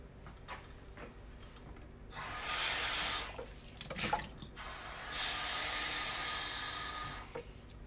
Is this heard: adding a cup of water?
yes